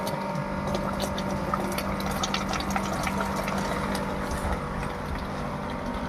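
A coin-operated water ATM pumping water into a can, a steady hum of the pump with continuous gushing and filling water, moderately loud and without talk.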